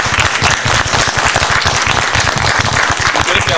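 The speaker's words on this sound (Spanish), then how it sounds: "Nosotros le vamos a pedir un fuerte aplauso a los papás para el programa del cuarto intermedio" A large audience applauds the parents at an evening school program, loud sustained clapping from many hands filling the space without pause.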